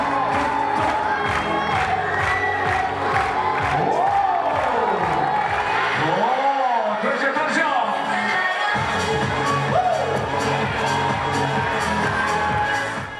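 Big, loud crowd of fans at Janja Garnbret's one-day climbing marathon of 100 routes, cheering, whooping and clapping in rhythm close by, with rising shouted calls over a continuous roar.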